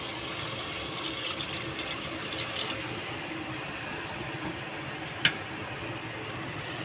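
Water pours steadily into a cooking pot of mutton curry in a soft, continuous splashing stream, quiet and close, with a single brief clink partway through.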